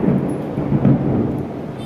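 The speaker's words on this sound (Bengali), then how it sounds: "বেশ মেঘ ডাকছে বাবা, একটু বৃষ্টি হোক" Low, continuous rumbling of thunder on an evening in Kolkata, rolling through the whole stretch, steady and fairly loud with a slight swell midway; no voices.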